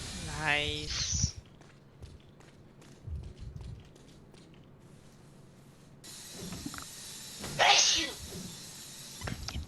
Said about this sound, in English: I Sneeze into the mic like a fucking adult!